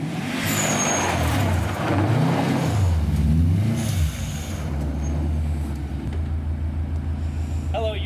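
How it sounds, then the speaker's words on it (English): A 2005 Subaru hums along while driving at night in Anchorage, Alaska, with steady engine drone and shifting revs heard from inside the car, a voice talking over it. "we're here driving around at night here in Anchorage in my 2005 Subaru Medium Gramps"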